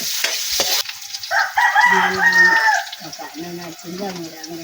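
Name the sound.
onion frying and being stirred in a pan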